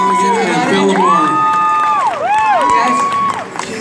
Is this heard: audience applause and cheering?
yes